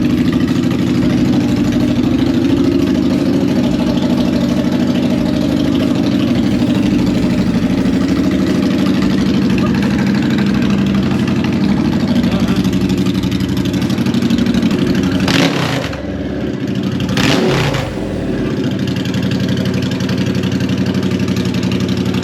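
A wide-wheel bobber motorcycle engine runs at a loud, steady mid-pitched idle close by, with a couple of short revs or blips breaking the drone about two-thirds of the way through.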